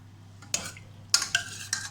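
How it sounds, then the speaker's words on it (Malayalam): Cooked beef korma is stirred in an opened pressure cooker: a few short scraping clinks of a spoon against the metal pot sound close by in a quiet kitchen. "ഓപ്പൺ ചെയ്ത് ഇത് നല്ലവണ്ണം ഒന്ന് യോജിപ്പിക്കാം"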